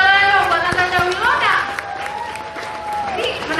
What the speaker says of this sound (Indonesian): Tepuk tangan sekali dong buat Natasha Wilona